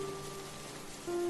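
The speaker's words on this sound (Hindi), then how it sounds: "अभी जैसे जोरों की बारिश शुरू हुई है" Heavy rain pours down in a steady, even hiss, fairly soft and unbroken, with faint sustained tones underneath.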